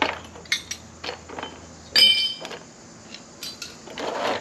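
Assorted wrenches, a mix of Whitworth and other sizes, clink as they are handled during an oil change on a 1937 Austin 7. Scattered sharp metallic taps and rattles ring out at close range, fairly quiet, with no talking.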